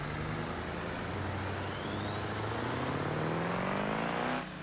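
An 18-liter diesel V8 swapped into a police car in BeamNG Drive revs up, its engine drone climbing steadily in pitch and loudness for several seconds before abruptly cutting off at the end.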